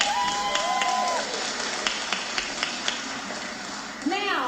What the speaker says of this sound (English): Give yourself a huge round of applause for being here today.